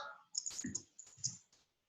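Password typed on a computer keyboard: a short burst of light, close key clicks in an uneven rhythm, tapering off with a last isolated tap, with no talking.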